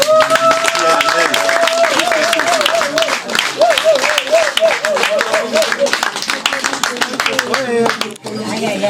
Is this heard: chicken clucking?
no